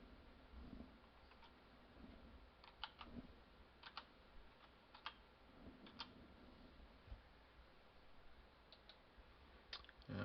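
Soft computer keyboard typing in a quiet room, scattered faint key clicks in small bursts rather than steady rhythm, no talking.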